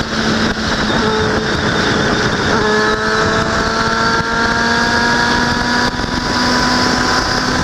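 A Honda Hornet motorcycle engine revs up close, its pitch climbing in a steady rise over several seconds, with road rumble underneath and no talking.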